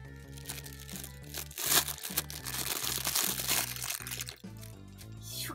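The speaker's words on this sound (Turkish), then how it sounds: "son iki paketimizi açalım" Plastic packaging of Barbie doll clothes being opened up close, a steady run of crinkling and crackling handled plastic, fairly faint, with no talk.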